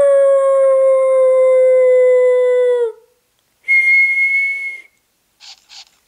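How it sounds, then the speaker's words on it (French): In the Nintendogs video game, a drawn-out pure howl slides down at its end, followed after a pause by a shorter rising howl and two brief faint yelps. "Et à 3, on va hurler à la mort comme des loups."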